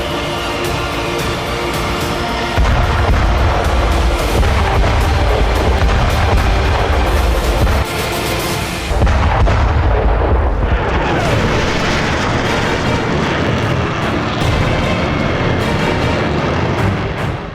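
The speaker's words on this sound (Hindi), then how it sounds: "टेस्ट रेंज में पांचों ने सफलतापूर्वक अपने हथियार फायर किए हैं" Rafale fighter jets firing weapons on a test range: loud, continuous roaring blasts and deep rumbling booms that swell and surge, with a brief lull near the middle before the heavy roar resumes.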